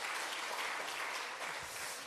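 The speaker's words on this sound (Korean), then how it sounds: "박수 한번 해주세요" A church congregation gives a short burst of applause, a dense, steady wash of many hands clapping together at a moderate distance, with little else heard.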